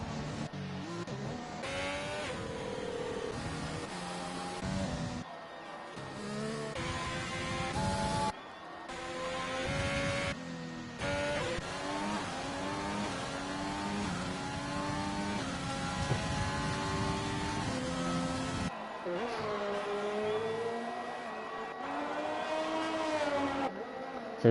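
F1 race cars heading out on a lap in a racing video game at Australia, high-pitched engines rising and falling through gear changes, several cars passing one after another with brief gaps between them.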